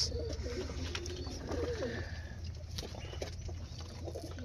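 Pigeons of a breeding loft cooing nearby in soft repeated low throaty calls, with faint wing shuffles and quiet background noise.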